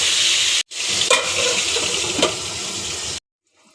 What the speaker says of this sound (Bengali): তেল গরম হয়ে গেছে, এখন আলুগুলো দিয়ে দেব।